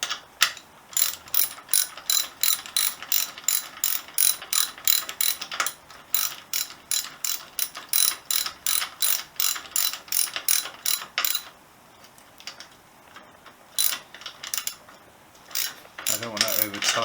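A ratchet wrench tightens a wheel on a Honda XL250S motorcycle during restoration, giving long runs of crisp, close clicking strokes in a quick steady rhythm, pausing briefly near the end before a few more bursts.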